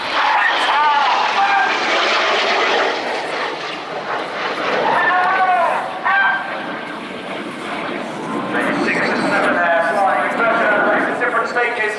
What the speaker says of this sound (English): Keep your eyes on those 2 jets as they fly the shotgun.